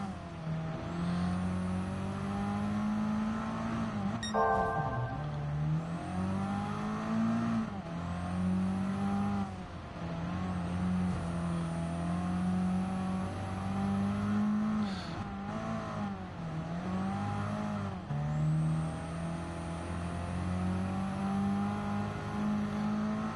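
A race car engine in the Gran Turismo 7 video game drones and revs continuously, rising and falling as gears shift, with a brief squeal or clatter near the start; no voices over it.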